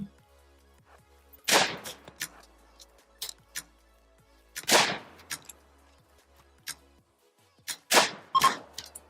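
Pistol shots ring out in the video game RimWorld: three loud, sharp cracks spaced a few seconds apart, each trailed by faint ticking clicks in an otherwise quiet scene.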